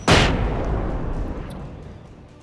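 A grenade going off in the video game Alan Wake, one loud sudden blast that booms and then rolls away in a long fading rumble.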